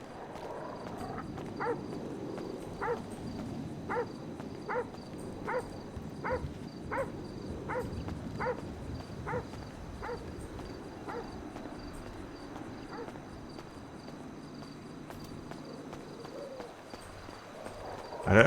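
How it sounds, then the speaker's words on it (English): A dog in a video game barks in a steady, evenly spaced series of sharp yelps over a low ambient bed. The barks fade out about halfway through, leaving only quiet background hum. "I don't like that dog."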